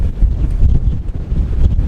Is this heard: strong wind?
yes